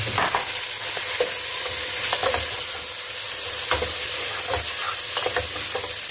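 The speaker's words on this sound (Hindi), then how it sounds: "अब इसको एक दो मिनट भूनेंगे" Garlic, ginger, spices and tomatoes fry in a pan for beef handi kabab, giving a steady close sizzle with intermittent scraping stirs and no voices.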